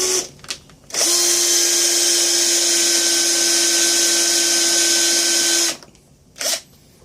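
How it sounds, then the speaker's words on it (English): A power drill cuts a hole in a bushcraft knife sheath, a loud, steady, high whine lasting about five seconds, framed by short bursts of handling noise before and after. "that's where I'm going to drill"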